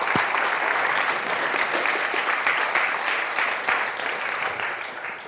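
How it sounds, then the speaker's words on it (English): Applause from an audience closing a machine-learning and astrophysics conference session, steady dense clapping sustained throughout, loud and unbroken with no voices. "applause."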